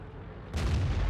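Tank cannon firing in World of Tanks, a single sudden heavy boom breaking in midway over low rumbling background and ringing on briefly.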